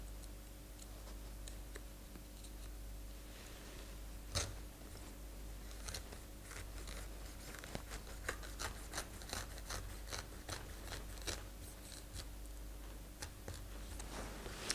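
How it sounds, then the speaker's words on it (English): A knife works through a pineapple with faint crunchy cuts and scattered ticks over a steady low hum. It is quiet and close, with brief louder snaps near the middle and end. "cut through nearly half of the pineapple here so that I can remove the inner side"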